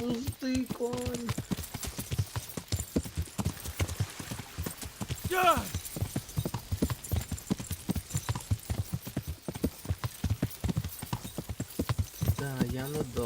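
A horse's hooves clip-clop steadily in the medieval game Kingdom Come: Deliverance, a continuous close rhythmic trot with a couple of whinnies, while someone talks over it.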